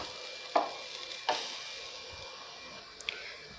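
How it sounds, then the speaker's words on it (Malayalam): Grated coconut and fennel seeds dry-roasting in a pan give a soft, steady sizzle, broken by a couple of sharp scraping stirs and a light clink near the end. "നമുക്ക് നാളികേരമൊന്ന് വറുത്തെടുക്കണം."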